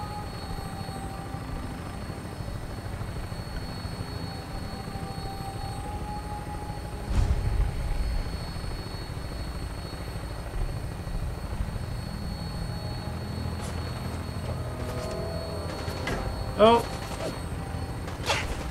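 An aircraft flies and comes in to land in the video game Fallout 4, a continuous engine and rotor drone under in-game talk, with a louder rumble midway and gunfire-like cracks near the end.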